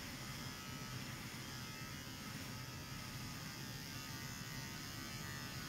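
An electric razor shaves a head, giving a steady buzzing drone that stays close and constant with no pauses.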